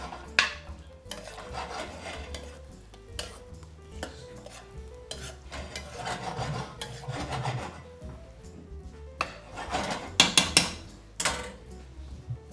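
Gnocchi alla Sorrentina with parmesan and pecorino stirred in a pan, a spoon scraping and rubbing against the pan in uneven strokes with occasional clinks, close up and without talk.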